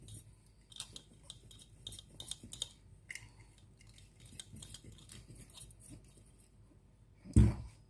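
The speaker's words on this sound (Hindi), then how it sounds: "इसको मैं टाइट करके अब इसको मैं मिक्स कर रही हूँ।" Vegetables for a village-style pickle being mixed in a pot, a series of light clinks, scrapes and rustles at an irregular pace, ending with one louder knock near the end.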